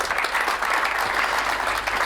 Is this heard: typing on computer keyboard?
no